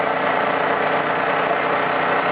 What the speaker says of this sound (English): I'll just fan back and see the two engines working.